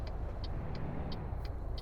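Heavy truck engine in American Truck Simulator, a steady low rumble with a soft periodic high ticking, like a turn signal or cab click, about every third of a second.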